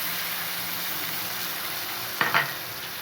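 Onions frying in a pan for a fish curry with chittakayi, a soft steady sizzle and hiss throughout, with a short scrape of stirring near the end and no talk.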